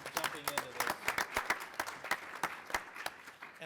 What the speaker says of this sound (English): So I want to give you a round of applause for so quickly jumping into this.